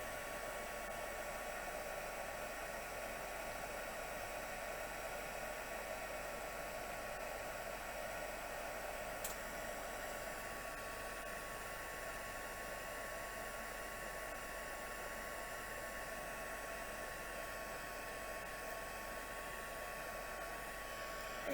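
A craft heat tool on setting 2 warms a Christmas card, giving a steady, even, airy whoosh like a small hair dryer that continues unchanged for over twenty seconds, fairly quiet and with no talking.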